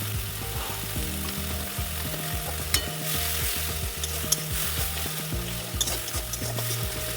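Spices sautéed in oil in a home kitchen pan after a splash of bowl-rinsing water, a steady close sizzle with repeated scraping and stirring clatter of a spoon against the pan.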